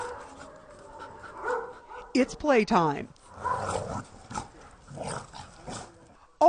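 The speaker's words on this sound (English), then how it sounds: "All these dogs were once abandoned and unwanted on the streets of Istanbul." Abandoned dogs at a shelter in Istanbul, with short barks and whimpers breaking out in bursts over close speech and a playful background of yips.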